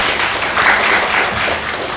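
Audience at an education participation committee meeting applauds to welcome the district education superintendent, a steady dense wash of many hands clapping, moderately loud and continuous throughout.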